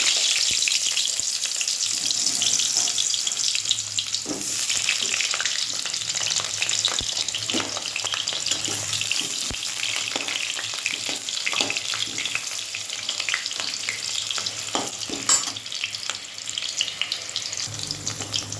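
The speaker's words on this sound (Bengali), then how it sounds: "আলু পেঁয়াজ ভাজতে হবে" Potatoes fry in oil in a pan, a loud, continuous close sizzle with scattered crackles and occasional stirring scrapes running steadily throughout.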